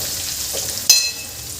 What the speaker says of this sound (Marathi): इथे मी सगळे बटाटे घालून घेते।